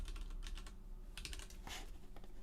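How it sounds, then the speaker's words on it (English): Someone types on a computer keyboard in quick, close bursts of clicking keystrokes, quiet overall with short pauses between runs. "people kind of like me showing off my keyboard, so I'm gonna do a bit more"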